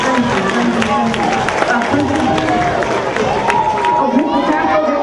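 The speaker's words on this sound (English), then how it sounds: "Let's give them another round of applause." Loud audience applause and cheering at a school Black History program, a thick wash of clapping, shouts and crowd babble filling the room throughout.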